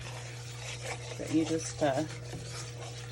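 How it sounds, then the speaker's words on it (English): A spoon scrapes and stirs homemade country gravy with bits of bacon in a pan, soft rasping strokes under a faint sizzle as someone talks over it. "keep stirring until you get it about where you want it"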